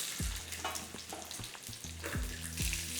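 A handful of small shallots fries in oil in a pan for a South Indian buttermilk curry, with a constant close sizzle and several spatula knocks and scrapes, and no voices.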